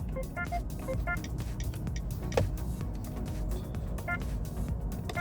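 Turn signal sound options in a 2026 Mitsubishi Xforce Ultimate Premium Hybrid cabin, a series of short rhythmic ticks and tocks repeating under a steady low hum of the car's interior.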